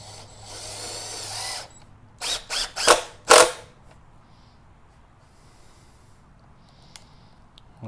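A power drill drives 2-inch coated exterior screws into wood for a DIY planter box, with one longer whir followed by three short, loud bursts of the motor up close, then quiet.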